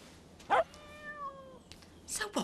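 One drawn-out cat meow, clear and fairly close, set between short sharp noises and a faint voice.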